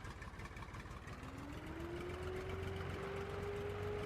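A tractor engine in Farming Simulator 17 rises to a steady idle, a continuous mid-low hum with the pitch climbing smoothly as it settles, moderately loud with no talking.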